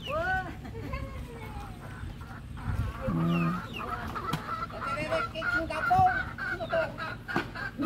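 Chickens cluck and squawk close by amid a busy, noisy backdrop, with overlapping calls throughout, in Bucay, Abra, Philippines.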